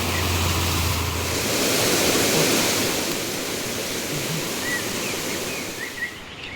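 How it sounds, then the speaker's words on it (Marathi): Loud, steady rush of foaming water churning and flowing forcefully in a stream in the Konkan, a continuous broadband roar with no voices. "वाळाला किती फोर्सने पाणी आलेलं आहे फेसाळलेलं पाणी"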